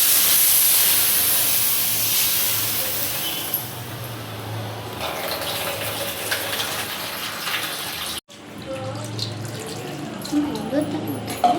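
Water runs generously into a container in a family home kitchen, a loud, steady rushing hiss that slowly eases and briefly cuts out before flowing again with some background stirring.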